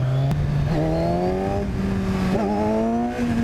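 A 2014 Kawasaki Z1000 motorcycle accelerates hard, its engine note climbing steadily with brief dips at gear changes, loud and close throughout with wind rush.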